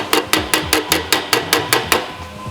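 Hammer taps sheet metal to shrink a bend during panel fabrication on a 1978 Porsche 911 SC: about nine sharp, evenly spaced metallic strikes, close and distinct, with no talking.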